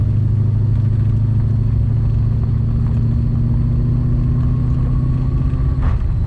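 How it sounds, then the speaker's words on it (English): A Plymouth Scamp, revived after sitting abandoned for 16 years and running without its kickdown cable connected, drones loudly as its engine pulls in first, then shifts hard into second near the end with an abrupt drop in engine pitch and a jolt. "Oh, there's second. Oh, dang. Shifted into second real hard."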